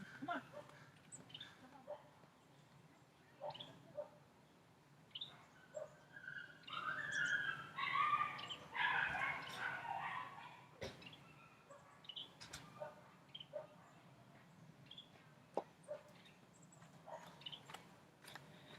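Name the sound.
dog whimpering in distress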